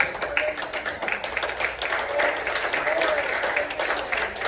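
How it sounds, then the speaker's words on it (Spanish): Church congregation applauding to the glory of God, a continuous patter of many hands clapping at moderate volume, with voices mixed in throughout. "Denle un aplauso a la gloria de Dios."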